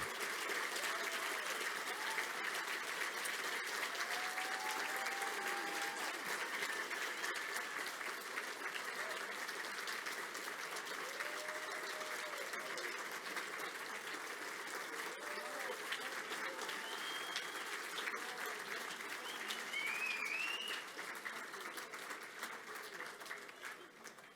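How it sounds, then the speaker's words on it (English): A dinner audience gives a long, steady round of applause for a guest star, dense clapping that holds for over twenty seconds before easing slightly at the end, with a few faint voices in the mix. "please join with me and give a warm round of applause for our special guest star, Tony Orlando, a great friend."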